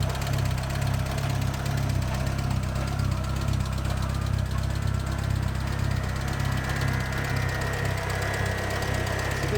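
A modified twin-turbo car engine idles steadily and close by, a low continuous rumble carrying a faint ticking throughout, with no talk over it.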